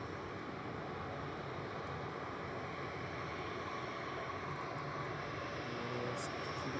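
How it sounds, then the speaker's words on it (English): A Singapore Airlines jet taxiing at Manchester Airport sends out a steady, broad, distant engine roar that holds even throughout, with no clear voices over it. "Singapore is about to taxi over."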